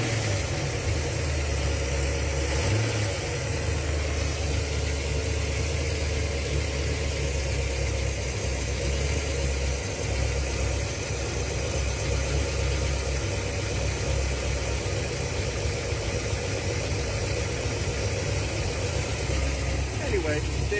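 A Ford Galaxie V8 with carburettors idles steadily while warming up, a constant low engine rumble running throughout under intermittent talk.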